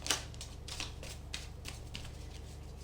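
Tarot cards being shuffled by hand, a steady run of quick papery riffles and taps, faint and close, against a low background hum.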